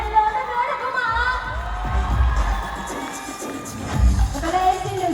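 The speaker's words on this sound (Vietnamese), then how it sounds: "chúng ta hãy cùng dành cho họ một tràng pháo tay lớn hơn nữa được không ạ?" A fashion show crowd cheers and shouts with high, excited voices, a loud continuous wash of whoops rising again near the end.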